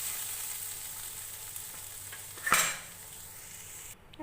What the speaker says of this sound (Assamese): চাওক, আমাৰ অলম'ষ্ট ভাজিখিনি ৰেডি হৈ গৈছে।